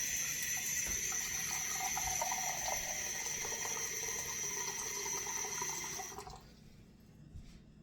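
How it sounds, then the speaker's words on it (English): Cold water pours steadily into a cooking pot while making lemon cream puff dough, a continuous faint splashing rush that stops near the end, leaving quiet. "to this we're going to add a cup of water, cold water"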